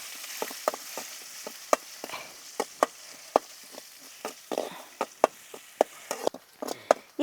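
Crushed garlic and ginger frying in hot oil in a pan, a soft sizzle under a regular series of sharp spoon taps and scrapes against the pan.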